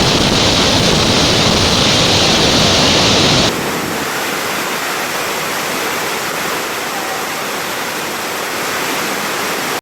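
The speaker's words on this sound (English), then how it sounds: "Millions of liters of water fall per second, forming a constant mist that rises into the air and a deafening sound" The Devil's Throat waterfall roars loudly and continuously, a dense rushing wash of water that shifts slightly in tone partway through.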